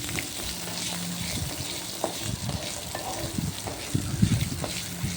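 Small onions sauté in a pan for a chutney, a soft steady sizzle broken by occasional stirring scrapes, close and fairly quiet with no talk.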